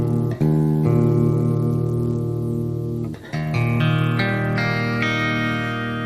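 A guitar freshly fitted with new strings rings out in sustained notes and chords, close and clear, with a short pause and a strum near the middle before more notes sound; no talking.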